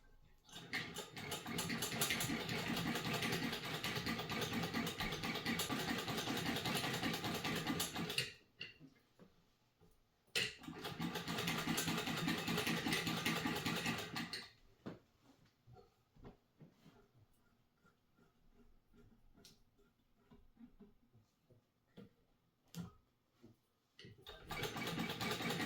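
A restored Singer 115 treadle sewing machine running in two long stretches of fast, steady mechanical clatter, near and loud, with a sparser tapping and clicking gap between them and a restart at the end.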